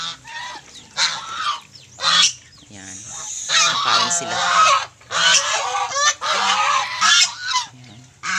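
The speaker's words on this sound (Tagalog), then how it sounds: "Dito naman yung mga alagang gansa." Domestic geese honk loudly and repeatedly in overlapping bursts close by on a rural farm, with a brief spoken word among them.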